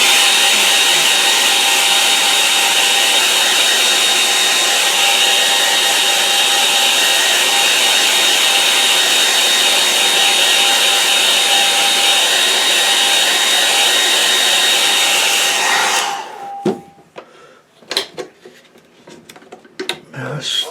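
A hair dryer blows steadily over a watercolour painting of an autumn Lakeland scene, a loud, constant whoosh lasting about sixteen seconds before it is switched off, leaving faint knocks and handling sounds.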